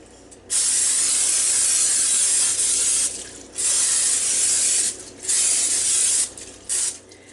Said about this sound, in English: You need to spray your pan.